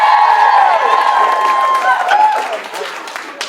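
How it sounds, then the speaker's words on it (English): Comedy club audience clapping and cheering, a loud burst of applause with whoops and raised voices that gradually thins out over a few seconds. "Clap if you're 50 and up"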